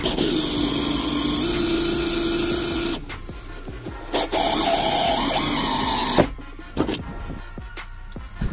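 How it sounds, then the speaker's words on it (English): A 1 3/8 inch hole saw grinding steadily through a steel 55 gallon drum with a high whining tone, stopping and restarting in several bursts, close and loud. "This is a 1 3/8 inch hole saw line."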